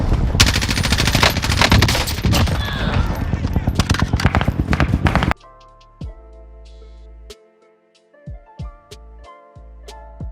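XM4 assault rifle in Warzone Mobile firing rapid full-auto bursts for several seconds, loud and close, then cutting to sparse single shots and clicks over quiet game music.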